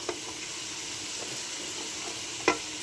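Cabbage and other vegetables are stir-fried for veg fried rice in a home kitchen pan: a steady oily sizzle runs throughout, broken by a few sharp scrapes of the spatula, the loudest one near the end.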